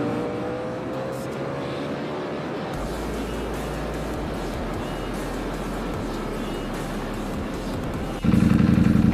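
A Ducati Panigale motorcycle riding on a road, its engine droning steadily at close range, with a louder, rougher surge near the end as the revs climb.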